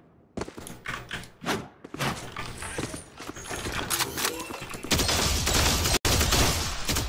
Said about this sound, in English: To reload the sheriff, is it different?